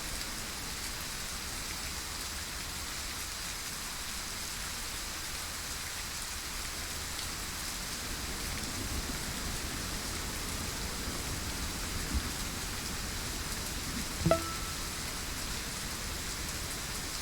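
Steady rain hisses in the game Way of the Hunter, a dense, even wash of drops with no speech, broken only by a faint tick near the end.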